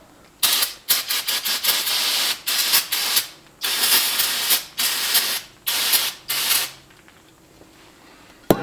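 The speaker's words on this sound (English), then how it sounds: "Let me spray this off." An aerosol can of brake cleaner, sprayed on a 6.7 Powerstroke diesel engine, hisses in a series of loud, close bursts, some short and some held for a second or more, with brief silences between them.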